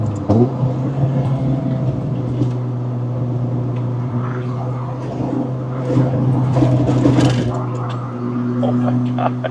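An Acura Integra fitted with a REVEL Medallion exhaust driving along, a steady low engine drone with road rumble beneath someone talking over it.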